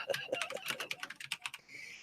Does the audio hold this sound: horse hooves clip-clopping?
no